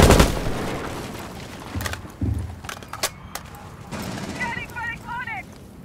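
Scattered gunfire inside a house map in Rainbow Six Siege: a few sharp shots and short bursts spread across the clip, with voices talking over the action and clicky mechanical game sounds near the end.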